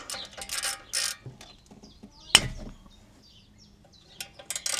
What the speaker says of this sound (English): Caliper carrier bolts coming off.